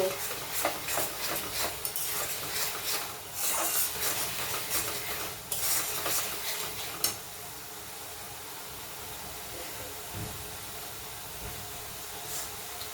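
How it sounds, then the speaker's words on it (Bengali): A spatula stirs egg tadka in a hot pan, giving scraping strokes over a sizzling hiss for the first several seconds. Softer, steady frying noise follows, and no voices are heard. "ভালো করে খুন্তি দিয়ে নাড়িয়ে নেব।"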